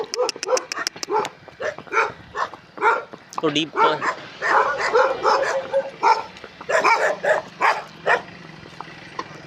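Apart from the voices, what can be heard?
dogs barking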